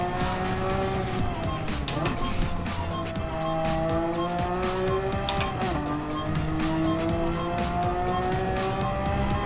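A Porsche 996 race car in a video game lapping the Nordschleife, engine note rising and falling through gear changes with sustained tire squeal and skidding, loud and continuous, with a brief spoken word from a driver over it.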